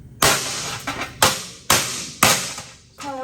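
A metal step stool is hammered flat on an old anvil, with four or five sharp, ringing hammer blows at irregular intervals, close and loud, with no talking.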